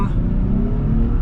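A 2025 Nissan Z two-door, two-seat sports car accelerates at low RPM, with a loud, close, steady engine drone and no talking.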